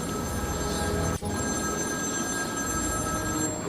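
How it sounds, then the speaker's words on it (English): A telephone rings in Batman: Arkham City with a continuous electronic trill that is loud and close, broken only by a brief dropout before it carries on unchanged. "Ring, ring, ring."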